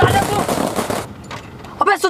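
Firecrackers burst outside in a dense, loud crackling volley during the first second, then fade as a voice speaks.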